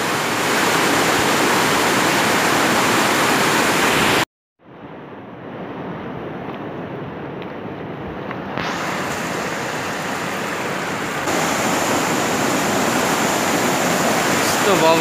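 The Midim river rushing near Midim Bridge as a loud, continuous broadband roar of water, briefly cut out near the middle before it returns, with no one talking.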